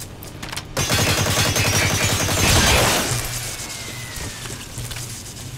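In Metal Gear Solid V: The Phantom Pain, a player fires sustained gunfire in a dense, rapid rattle that swells to a loud peak and then slowly fades. A faint whistling trail is heard as it dies away, and no one speaks.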